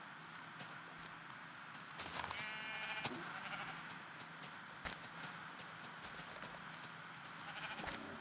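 Repeated sheep bleats from a video game, mixed with soft clopping steps and scattered clicks over a continuous background hum, fairly faint and steady.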